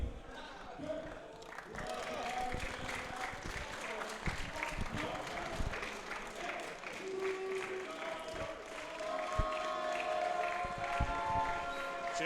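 Sustained applause and crowd noise from a large audience at a Street Fighter 6 tournament top 8, steady and fairly loud throughout, with a voice speaking over it.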